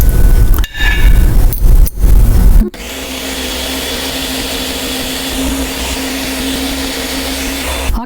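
A countertop blender runs steadily, blending nut butter with added extra virgin coconut oil into a creamy but grainy paste; after a few brief stop-start bursts the motor settles into a loud, continuous whir.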